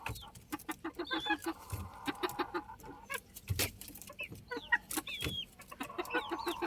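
Chickens cluck in short, scattered bursts, with some squawks and a few higher calls, fairly close and alone with no talking.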